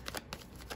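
Tarot cards shuffled in a brief quick burst, a few soft riffling slaps close by, with no talk over it.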